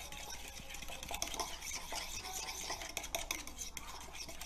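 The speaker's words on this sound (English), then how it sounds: "Okay, mix that up. With the fork? Yes," Fork stirring chicken marinade in a bowl, with soft, quiet clicks and scrapes of metal against the dish repeating steadily, close and faint with no voices.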